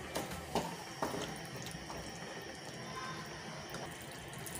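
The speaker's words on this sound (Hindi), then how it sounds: "वही पानी मैं इसमें ऐड कर रही हूँ" Water used to rinse whisked yogurt from a bowl is poured into a cooking pot for spicy achari fish, a quiet trickling splash with a few soft drips and clinks, no talking.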